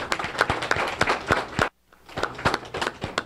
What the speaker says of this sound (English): So Matt himself, give him a round of applause.